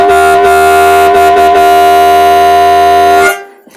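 Harmonica drawing holes 2 and 5 together through a microphone, a loud reedy blues double-stop held for about three seconds with slight pulsing articulations, then released into a brief decay.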